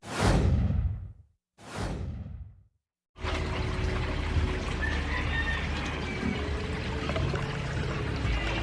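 An ornamental fish aquarium drains through a hose during a water change, first two loud whooshing gushes of water, then a steady close rushing flow with faint trickling.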